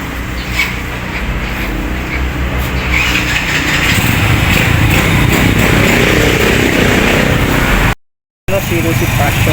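A grey Rusi Passion SC125 scooter engine starts and runs with a loud, rough, continuous idle up close, broken by a brief gap near the end.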